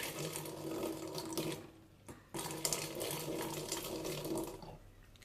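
Water runs from a tap as a glass is rinsed, a steady close rushing stream with a brief break in the middle before the flow resumes, with no talking.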